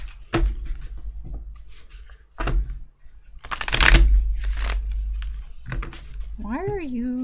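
Tarot cards are shuffled in irregular bursts of papery riffling and slapping taps close by, interspersed with quiet pauses and a voice speaking near the end.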